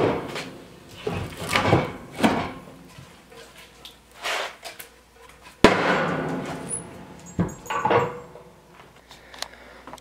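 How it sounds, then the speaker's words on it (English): Firewood is loaded into a wood fire on a homestead on a frigid morning, heard as a series of clunks and thuds, with one sharp loud knock midway and scattered softer knocks after. "First thing we need to do is put some more wood on the fire."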